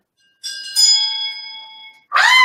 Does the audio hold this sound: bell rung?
yes